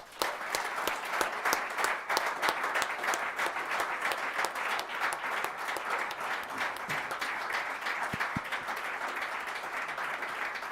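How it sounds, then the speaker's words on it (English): An audience at the Coach Core Awards 2022 applauds steadily as two nominees come up on stage, a dense, even wash of clapping that holds at a steady level for the full length with no voices over it. "Can we please have a huge round of applause as Asen and Amy come up on stage?"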